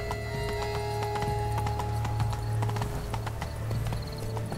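Horse hooves clip-clopping steadily in the video game The Witcher 3, a brisk continuous rhythm over a low droning game ambience, with no talk over it.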